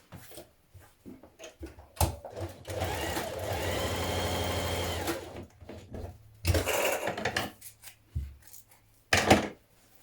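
A sewing machine stitching the shoulder seams of a fitted dress, one steady whirring run of about three seconds, then short bursts and clicks from handling fabric, close and alone without talk.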